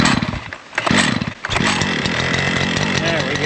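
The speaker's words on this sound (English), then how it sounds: "Back to strimming." A string trimmer strimming outdoors, its buzzing motor dipping briefly twice and then running steady and loud, with voices faintly mixed in.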